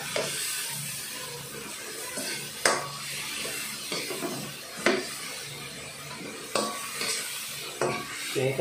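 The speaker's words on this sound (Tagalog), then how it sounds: "Lalambutin muna natin yung kamatis para paggisa natin dyan ay talagang parang tomato sauce na siya, tunaw siya." Tomatoes softening in a pan are stirred with a utensil, giving soft scraping and a low sizzle broken by several sharp clacks against the pan at irregular intervals, close by with no talking.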